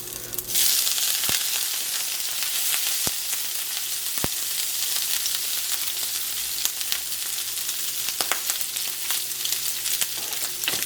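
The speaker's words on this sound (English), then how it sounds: "we're going to sear our octopus. We have our pan on a medium heat. We're going to add some olive oil." Cleaned octopus searing in olive oil in a pan over medium heat, a loud continuous sizzle with scattered pops and crackles throughout.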